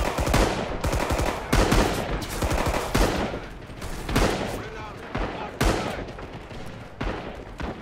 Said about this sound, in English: MGs, non-stop fire